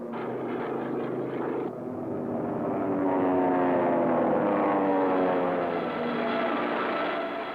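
Japanese bomber aircraft over Nanking, a steady propeller-engine drone that holds loud and continuous throughout, with a slight shift in pitch partway through and no voices.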